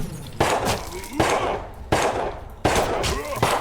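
Machine gun fire in the video game Utopia 9: four loud bursts of rapid shots at roughly regular intervals, each trailing into a ringing, clattering decay with some game effects beneath.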